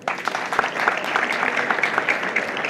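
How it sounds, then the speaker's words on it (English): Scattered, moderately loud clapping from an audience at a public address, with individual sharp claps audible in an uneven patter and a faint voice mixed in. "Please clap for her."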